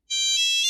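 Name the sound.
telephone ringing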